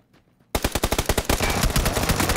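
Rapid rifle gunfire in the battle royale game PUBG, a quiet lead-in and then a loud, close volley of sharp evenly spaced shots that runs into dense continuous firing.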